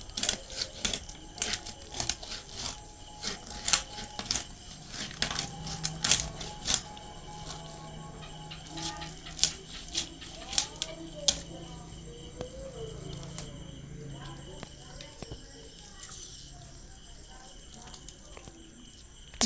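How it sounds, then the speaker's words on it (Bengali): A knife cuts through a large four-kilogram vetki fish caught from a home pond, making irregular close-up clicks, taps and scraping sounds over about twenty seconds, with a voice talking at times. "মাছটা এইভাবে মাঝখানে আমি কেটে নিচ্ছি।"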